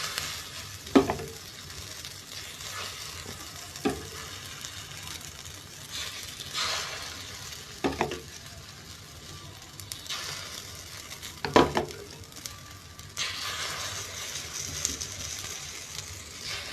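An omelette of egg and onion poured into capsicum rings fries in a pan with a steady, soft sizzle, broken by a few sharp utensil clacks and scrapes and no talking.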